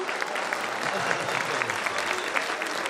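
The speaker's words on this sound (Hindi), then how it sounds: "आप सभी ताली बजाइए।" Steady clapping rises from the audience at a Hindi kavi sammelan poetry recital, a sustained patter of many hands at moderate loudness, with voices faintly audible through the applause.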